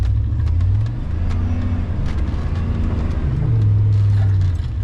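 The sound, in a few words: small truck with open diff spinning one tire on wet skid pad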